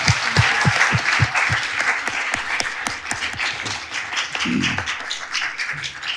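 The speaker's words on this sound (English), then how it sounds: "Let's have another round of applause." Audience applauding the writers at a First Novel Friday book event at the Center for Fiction, a round of clapping with a few sharper distinct claps early on, steady and close throughout.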